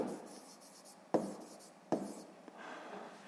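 A pen scratches across paper while writing by hand, a soft continuous rubbing broken by a few sharper taps, close and quiet.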